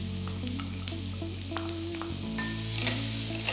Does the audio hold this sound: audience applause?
no